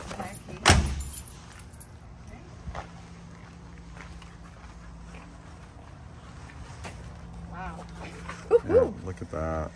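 Keys jangle inside a Land Rover Defender 90 fitted with billet door handles. A sharp metallic jingle near the start is followed by scattered light clinks and a brief burst of rattling near the end, all over a quiet cabin background.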